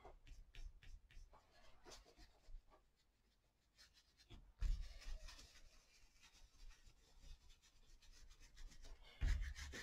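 A paintbrush scumbles paint into the nooks of a textured mixed-media collage landscape, giving soft, faint scratchy rubbing strokes in bursts with brief pauses, close by and with no voices.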